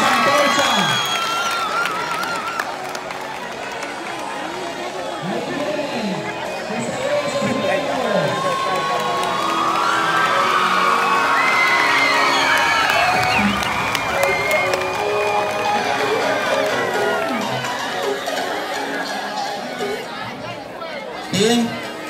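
A school intramural crowd cheering and clapping, with shouts and chatter swelling in the middle and fading toward the end; voices mix through the noise.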